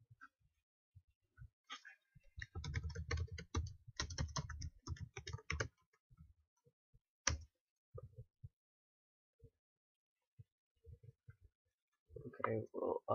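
Rapid bursts of key clicks from a computer keyboard, quiet and close, in a clustered run of typing followed by a few isolated taps, with brief talk at the end.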